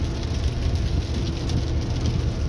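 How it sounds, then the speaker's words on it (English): Rain falling outdoors during work on a 1970 Monte Carlo, a dense, steady wash of noise with a heavy low rumble, continuous and fairly loud with no voices. "And it's raining."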